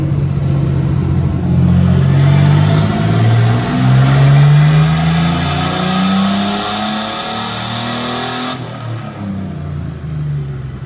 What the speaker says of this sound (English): hey Brady, you can probably do third gear pull